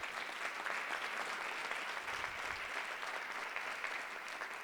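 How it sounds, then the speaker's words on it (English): A seminar audience applauds panelists after a talk on the Great Migration in Rochester, Syracuse and Buffalo, a steady, dense wash of clapping that holds evenly for several seconds without voices. "Please give our panelists a round of applause."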